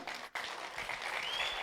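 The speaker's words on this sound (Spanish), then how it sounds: "este aplauso que hoy ustedes le dieron se lo va a llevar también con mucho cariño" Audience applause for a storyteller and actor, a continuous dense clapping wash that breaks for an instant near the start, then carries on steady and moderately distant.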